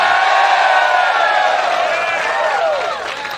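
Studio audience in a sports debate show erupting in cheers, whoops and applause, a loud dense burst that swells and then tapers slightly toward the end, with no one speaking.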